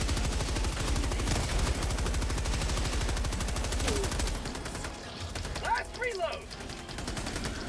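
Rapid, dense machine gun fire rattles steadily for about four seconds in a Terminator video game, then cuts out into quieter battle noise with brief scattered sounds.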